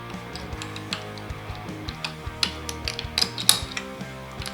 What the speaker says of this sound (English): Got my trusty string winder.